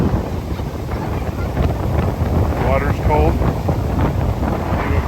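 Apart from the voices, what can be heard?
strong wind at the beach pier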